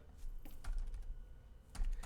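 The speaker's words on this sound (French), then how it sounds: "Donc là, j'appuie sur mon clavier" Keys on a computer keyboard are pressed and released, a few soft clacks spaced apart, faint and close with no talking.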